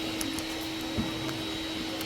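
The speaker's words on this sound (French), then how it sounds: "il y a du bruit parce qu'ils sont en train de passer l'aspirateur" A vacuum cleaner runs steadily in a discount clothing store, a constant broadband drone with a faint tonal hum, moderately loud and continuous with no talk.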